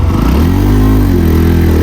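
A motorbike engine runs close and loud in snowy Humla, a steady mid-pitched drone with a slight rise in revs, no talking over it.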